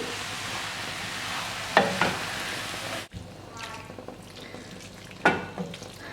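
Vegetable lasagne sauce being stirred in a pan, a soft scraping and sizzling texture with a couple of sharper spoon knocks, fairly close, with quieter movement after a brief drop midway.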